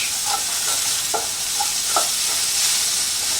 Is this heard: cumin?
yes